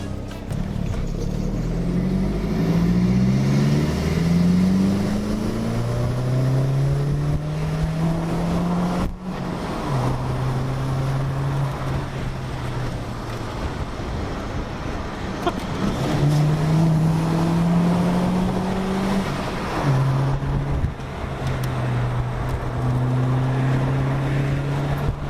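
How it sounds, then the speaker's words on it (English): A 1.8T Mk4 Golf fitted with a front-mount intercooler drives along, its engine droning and rising and falling through the revs, with a turbo whine audible over the steady cabin road noise. "The turbo's now going."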